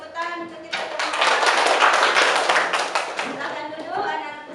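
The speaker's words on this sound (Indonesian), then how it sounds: "Tepuk tangan untuk kita semua." A class of students clapping hands together, a brief burst of dense, loud applause rising after a teacher's voice and fading back into speech.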